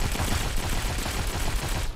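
Gunfire in the mobile shooter Modern Combat 5: a dense, continuous burst of rapid shots filling the whole moment, loud and close, with no voices.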